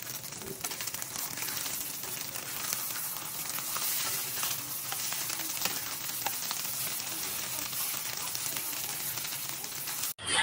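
Sausage frying in beaten egg in a pan for tortang sausage: constant close sizzling and crackling with faint scraping, steady and fairly loud, cutting off abruptly at the end.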